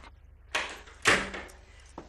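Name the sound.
door being opened in a radio drama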